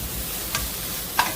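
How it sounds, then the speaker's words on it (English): Baked beans being stirred in a pot on the stove: a soft, even background hiss with two brief, light scraping taps of the utensil. "Stir them around."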